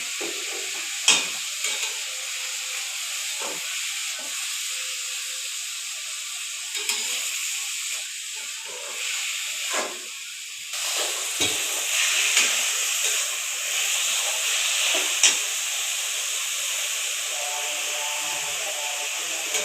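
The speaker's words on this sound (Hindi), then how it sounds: "सब्जियाँ फ्राई हो गई, इसको निकाल लूँ।" Lightly salted vegetables frying in a pan for Chinese-style chicken rice, a steady bright sizzle with intermittent scraping and clacking stir strokes, close and moderately loud, with no talking.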